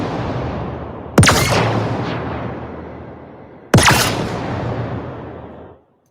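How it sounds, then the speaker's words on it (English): An energy rifle from the video game The Ascent fires indoors, two sharp loud shots a few seconds apart, each followed by a long decaying reverberant tail. "Let's try the energy rifle here."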